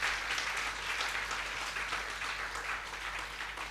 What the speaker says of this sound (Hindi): ऐसे लोगों के लिए तालियां बनती हैं पूरी टीम के लिए